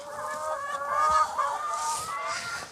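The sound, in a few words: hens clucking on a free-range farm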